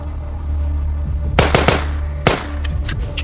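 Gunfire in a zombie shooter game: a few sharp, loud bursts and single shots crack out in quick clusters over a steady low background hum.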